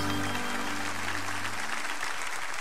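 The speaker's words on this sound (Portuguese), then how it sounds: "Uma salva de palmas." An audience at a sermon gives a round of applause, steady dense clapping over a low sustained musical tone that drops away partway through.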